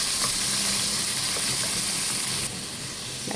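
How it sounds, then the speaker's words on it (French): Onion cooks in olive oil in a pan, giving a steady close sizzle and hiss with faint stirring. It drops a little quieter partway through. "On laisse l'oignon cuire un peu."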